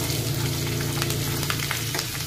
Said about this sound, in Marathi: फोडणी तडका तयार झालेला आहे